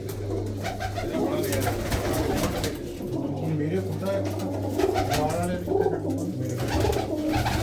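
Pigeons coo steadily in low, rolling throaty calls close at hand, someone talking over them throughout amid a faint background hum.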